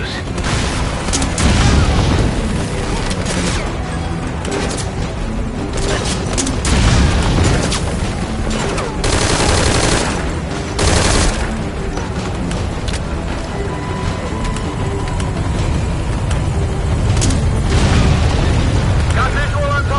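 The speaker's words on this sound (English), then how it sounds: "With an underbarrel grenade launcher." Underbarrel grenade launcher rounds exploding in Metal Gear Solid Ground Zeroes, giving repeated booming blasts over loud, continuous game noise, with voices talking throughout.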